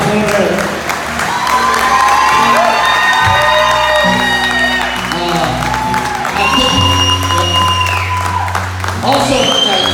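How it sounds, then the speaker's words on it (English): An audience at a hometown hero motorcycle makeover event breaks into sustained applause and cheering, with whoops and shouts rising from the crowd and a voice on a loudspeaker talking over it throughout. "Big round of applause"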